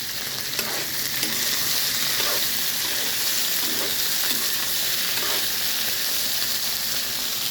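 Okra sautés in oil in a pan with a continuous close sizzle and frying crackle. Occasional stirring scrapes break through, and no speech is heard.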